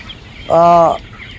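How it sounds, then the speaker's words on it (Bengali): A chicken on a poultry farm gives one clear, close call of about half a second, a harmonic squawk standing out over quiet background noise. "মুরগিটা দেখছেন এখানে"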